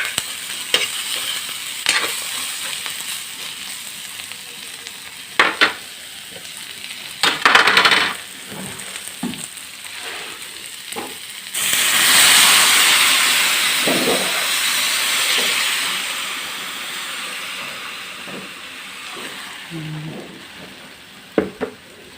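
Broth is poured into a hot pan of Filipino escabeche, setting off a loud, sustained hiss of steam and sizzling that follows scattered clinks and stirring scrapes, with no talking.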